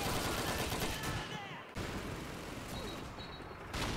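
Gunfire in the Call of Duty 2 video game, played on Veteran difficulty: a loud, dense, continuous rattle of shots filling the whole stretch, with a brief dip partway through.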